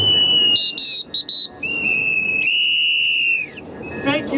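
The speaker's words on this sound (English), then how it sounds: "I haven't blown a whistle in a long time." A whistle is blown at an outdoor rally about big oil, first in a few short sharp toots and then in longer shrill blasts, loud and close with faint crowd noise around.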